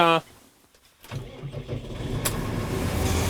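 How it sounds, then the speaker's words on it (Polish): A Case Maxxum 140 Multicontroller tractor engine cranks and catches after a short pause, then settles into a steady, rising diesel idle, close and loud, with a brief voice at the start. "Tak więc odpalamy case'a Maxuma, multicontroller wersja 140."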